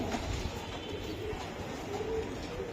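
Silver Jubba Moja racing pigeons give a low, soft cooing from close by over a steady background hum, with a brief louder bump at the very end.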